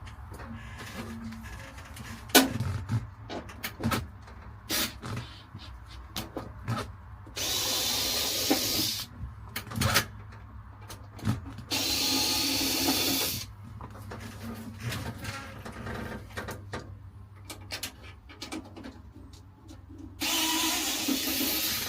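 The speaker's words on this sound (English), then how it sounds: "This is the little screwdriver that I reviewed" A small cordless power screwdriver whirs in several short bursts while removing a part from a 1957 Chevy truck during heater core work, with clicks and handling noises between runs.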